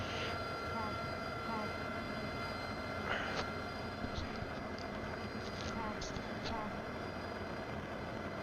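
A jet engine spools up in a flight simulator cockpit as the throttle moves forward, a steady rising turbine whine and rumble with faint tones over it while a voice talks.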